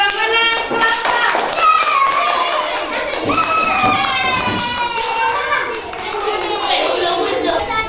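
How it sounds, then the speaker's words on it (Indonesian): Schoolchildren in a classroom clap for the winning group, a fast, rhythmic patter of small hands that runs steadily under lively chatter and children's voices throughout. "tepuk tangan buat pemenang kelompok"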